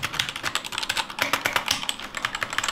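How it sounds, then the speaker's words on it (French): Drevo Calibre V2 mechanical keyboard with red switches being typed on steadily, a close run of quick, light key clacks in an uneven rhythm with no talk. "Ensuite on a le clavier, c'est un Drevo Calibre V2."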